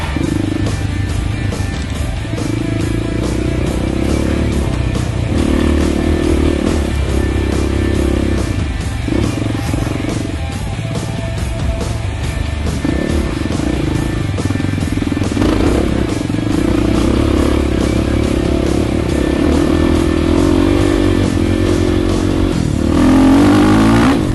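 A motorcycle roars continuously over rough, dusty off-road terrain during a Cowtag trail ride, its engine loud and close with revving surges and rattling clatter throughout.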